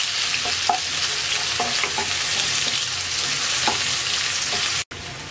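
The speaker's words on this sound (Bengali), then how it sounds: "পেঁয়াজটাকে হালকা ভেজে নেব" A finely chopped onion fries lightly in a pan for a Bengali bottle gourd and prawn dish, giving a steady, close sizzle with soft stirring and a brief dropout near the end.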